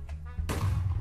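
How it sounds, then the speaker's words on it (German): A short, muffled boom bursts out in a building video game near a lava-filled hole, a single dull thud following a low murmur. "Explodiert!"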